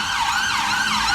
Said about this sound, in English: Look at that ambulance, so noisy.